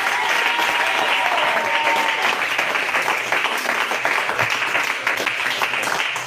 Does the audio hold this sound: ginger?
no